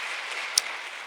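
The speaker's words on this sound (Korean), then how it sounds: "하나님께 영광의 박수 올리겠습니다." A church congregation at a Korean Sunday worship service claps together in a steady, even patter of applause that sounds fairly distant and uniform, with one sharper click briefly standing out.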